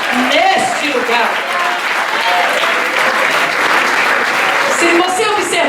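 Loud, sustained applause from a church congregation fills the clip, with voices shouting and singing in Portuguese over the clapping throughout.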